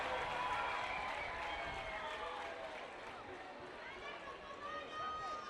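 Stadium crowd at a Concacaf Nations League football match between Curaçao and Panama, a loud continuous roar of cheering and clapping throughout, with a commentator's voice faintly over it.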